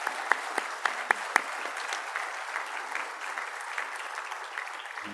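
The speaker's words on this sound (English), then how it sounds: "let's just give the staff and the fellows a big round of applause" Sustained applause from a conference audience at an opening plenary session, a dense steady patter with a few sharp, prominent claps near the start, then fading slightly toward the end.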